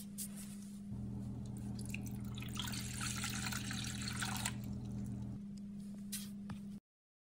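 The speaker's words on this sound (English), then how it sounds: "You're going to pour the water into a bowl," Measured water, about a cup and a quarter, is poured from a measuring cup into a bowl for baking, a soft continuous splashing trickle lasting several seconds close by, then tapering off before silence.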